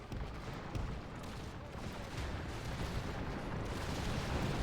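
Cannon artillery fire rolls through a battle in the video game Total War, a dense, continuous rumble of overlapping blasts and crackling gunfire that stays loud and unbroken throughout.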